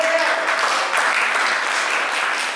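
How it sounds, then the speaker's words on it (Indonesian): Steady applause from a small group at a Sunday school, continuous clapping at even loudness throughout, with no voices standing out. "Tepuk tangan dong buat Angel."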